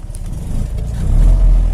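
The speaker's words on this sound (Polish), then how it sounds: "Przygazówka. Silnik na obroty." Fiat 126p engine brought up in revs, a short close burst of low mechanical rumble that swells louder over under two seconds, with no talk.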